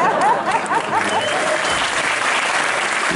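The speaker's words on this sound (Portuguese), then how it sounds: "as palmas que vocês estão batendo" Concert audience at Sesc Belenzinho applauds, dense loud clapping throughout with a few faint cheers mixed in, no talking.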